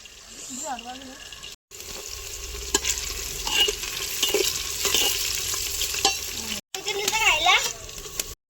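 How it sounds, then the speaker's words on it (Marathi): Vertically sliced onions frying in oil inside a pressure cooker for chicken biryani, a continuous close sizzle with stirring scrapes and a voice chirping faintly at the start and end. "कांदा इथं चांगला फ्राय होऊ द्यायचा."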